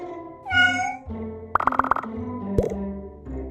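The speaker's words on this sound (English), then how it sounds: "The cat is in the box." A cartoon cat meows in clear, tonal calls, with a rapid string of plopping pops and a springy boing mixed between them, all close and fairly loud.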